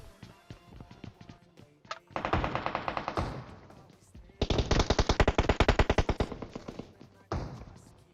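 Rapid bursts of automatic gunfire from a submachine gun in a video game, several long sprays separated by short pauses, loud and close.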